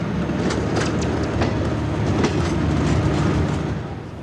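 Trains rolling through a busy Swiss railway station, a steady loud rumble of wheels and rail with repeated clickety-clack over the joints, continuous for the whole stretch with no voices.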